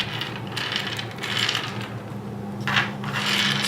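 A Microman Acroyear toy rolled on its plastic housing with two metal wheels, giving short close rasping, rubbing rolls in a few bursts with faint mechanical clicks, no voices.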